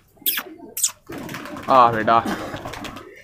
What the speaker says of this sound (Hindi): ये सारे कबूतर खा रहे हैं